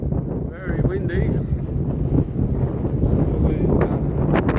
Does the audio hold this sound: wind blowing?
yes